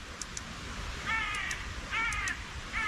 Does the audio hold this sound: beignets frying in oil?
no